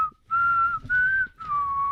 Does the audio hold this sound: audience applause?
no